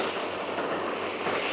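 Firecrackers burst in a dense continuous crackle, loud and near, filling the short stretch without pause.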